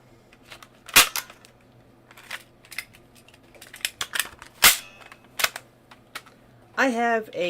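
Clicks and snaps from a metal fidget toy made like an M1911 pistol, sharp and close in an irregular run of single clacks and short bursts, then a person speaks at the end.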